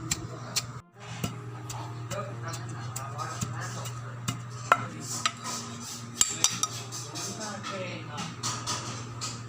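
Tomato chutney is pounded in a mortar, producing repeated sharp knocks and clinks at an irregular rhythm over a low steady hum, with a voice talking through it.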